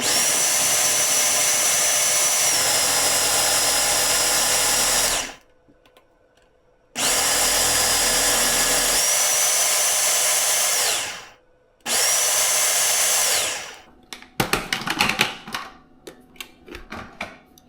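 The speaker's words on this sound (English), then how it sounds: "we are going to mix this up until it is a coarse crumble" Food processor mixing dessert ingredients into a coarse crumble, a loud whirring motor in three long runs separated by short silences, followed by rattling and clatter.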